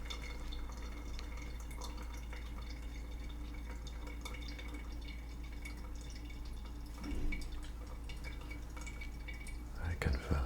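Water is poured slowly around the edge of coffee grounds while brewing coffee, making a faint, continuous trickle with soft drips and a small splash near the end.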